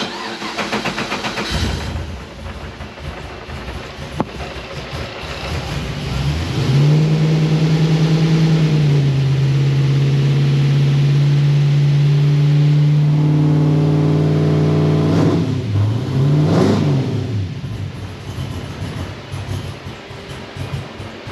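A Nissan 350Z running E85 with fresh plugs cranks with a rough starter whir, then catches into a loud, sustained engine drone that holds for several seconds, swells once more, and falls back toward cranking noise, close up.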